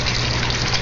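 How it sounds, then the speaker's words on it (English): Water pouring steadily into a deep water culture bed in an aquaponics greenhouse, a continuous close rushing wash with no pauses. "it flows down here and around, and then it gets spit into this bed right here"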